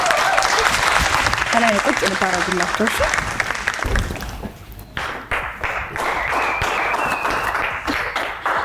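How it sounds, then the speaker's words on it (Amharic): Audience applause at a Father's Day studio show on EBS, dense clapping that fills the first four seconds, then dips and returns more thinly while a voice speaks over it. "አጨብጭቡላችሁ።"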